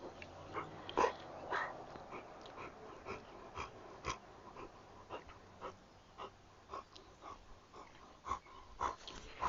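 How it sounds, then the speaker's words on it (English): A dog named Casper breathes close to the microphone with soft wheezy snorts and sniffs, quiet and irregular, in a calm morning setting with no talking. "He's a good doggy boy"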